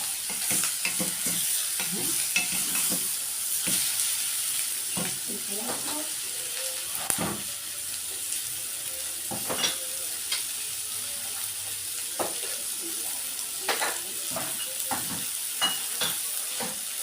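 Spoon stirring spinach with meat and chicken broth in a pot, a steady wet scraping and sloshing over a continuous sizzle, with repeated stir strokes throughout and a voice talking faintly underneath.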